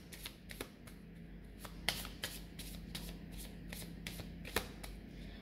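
Playing cards riffled and shuffled by hand, a steady run of soft papery flutters with sharper snaps at several points, close and moderately quiet, with no talking.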